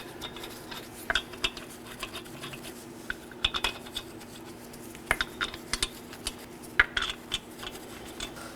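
Light metallic clicks and taps as lug nuts are threaded and snugged by hand onto the left front wheel of a 2018-2024 Chevrolet Equinox, close and faint, in a sparse irregular rhythm over a low steady hum.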